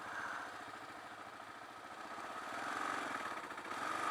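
A 2022 Kawasaki KLR650 engine running at low revs on a trail, a faint mid-pitched thrum that swells slightly toward the end, no talking.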